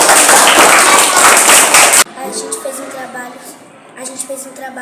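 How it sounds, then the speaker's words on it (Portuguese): A classroom of students claps for their teacher, a loud burst of crowded applause for about two seconds that stops abruptly, followed by quieter room noise with faint voices. "Outra salva de palmas para a professora"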